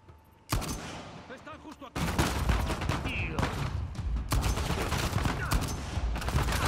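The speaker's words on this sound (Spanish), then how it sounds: "yo me pongo a pegar tiros desde aquí ya" Rapid bursts of gunfire in the video game Uncharted 4 crackle loudly and almost continuously after a brief quieter start, with a voice heard early on.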